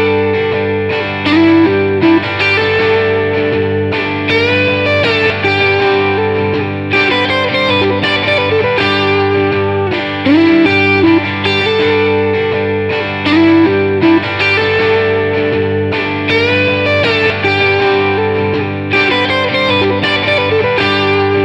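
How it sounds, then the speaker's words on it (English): Electric guitar melody line playing over a rhythm track, both running through Logic Pro's Amp Designer amp simulation with no pedal effects, steady and full throughout. "we've actually put a little melody line over the top of the rhythm track we're listening to, again just running through Amp Designer"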